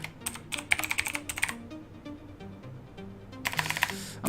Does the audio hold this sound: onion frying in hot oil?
no